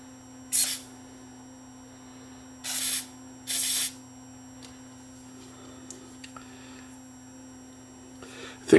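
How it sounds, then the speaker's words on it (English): WD-40 penetrating oil sprayed onto a sticking gear of a Garrard LAB 80 turntable: three short hissing spray bursts over a steady mains hum, with a faint rustle at the end. "I'll try a little bit of penetrating oil down there and see if it makes it any better."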